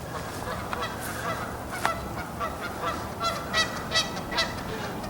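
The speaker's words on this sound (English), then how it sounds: "it looks like some geese found this a good place to hang out" Several geese honk near the Bridge of the Gods, their calls coming in repeated bursts, some louder and closer, over a steady outdoor background hiss.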